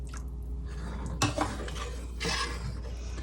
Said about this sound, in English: you want to keep stirring that